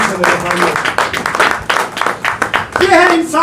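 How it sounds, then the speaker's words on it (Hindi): Congregation at an Urdu church sermon clapping loudly in a burst of applause, dense and close, with a voice talking over it near the end. "खुदा के जलाल के लिए जोरदार तालियां"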